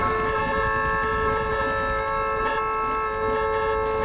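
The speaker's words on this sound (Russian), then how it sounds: "они все еще сигналят" Several car horns in a multiplayer driving game hold steady overlapping tones, a dense, continuous honking chorus over engine rumble, loud and unbroken throughout.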